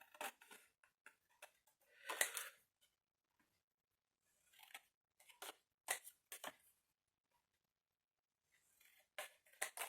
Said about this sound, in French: Vous découpez tous vos triangles.